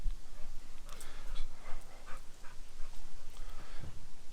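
An American Bully dog pants close by in quick, rhythmic breaths, fairly quiet and steady, with a few faint shuffling sounds in the background.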